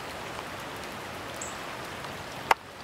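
Heavy rain falls steadily during flooding in central Arkansas, a dense, even hiss of drops continuing throughout, with one sharp brief knock near the end.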